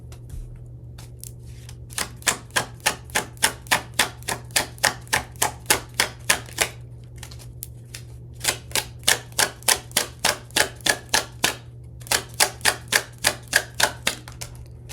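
Tarot cards snap and flick in fast, evenly spaced runs, each burst lasting a couple of seconds before a short pause. The sound is close and crisp, played over a low steady hum with no talking.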